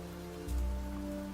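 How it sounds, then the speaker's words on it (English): Rain falls in the genetics survival game Niche, a soft steady patter that swells partway through beneath sustained tonal game music. "The game also lets you know when it rains"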